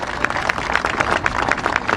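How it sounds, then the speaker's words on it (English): Applause from a political gathering crowd honoring Senator Tammy Duckworth, a steady dense patter of clapping across the whole moment, moderately loud with no voices on top. "She deserves a round of applause"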